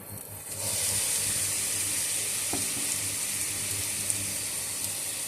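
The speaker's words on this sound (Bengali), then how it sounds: "এবার আমি প্যানে পেঁয়াজ বাটা দিয়ে দিব" Onion paste hits hot mustard oil in a frying pan for a mustard hilsa fish dish, bursting into a loud, steady sizzle after half a second and hissing continuously, with a faint clink partway through.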